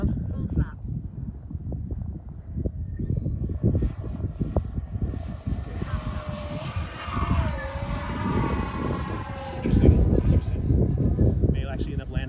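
A Freewing F-35 70mm electric ducted-fan RC jet with tailerons and flaperons flies with full flaps down, its steady whooshing fan whine rising and holding, fairly loud and continuous, with a person talking over it.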